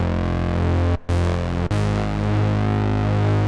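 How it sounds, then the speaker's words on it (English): Dry, unprocessed Analog Lab synth bass tone, a steady sustained drone with two short cuts near the start, plain and loud with nothing else over it. "if I just disable it, the bass sounds like this"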